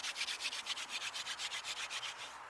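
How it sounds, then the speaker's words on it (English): Wooden hand drill spun fast between the palms, its wood-on-wood friction giving a rhythmic shushing rasp in quick back-and-forth pulses, close and moderately quiet, stopping at the end. "It'll make a shushing noise once it's good."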